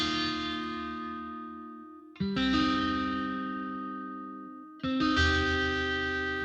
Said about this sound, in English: we can also add some reverb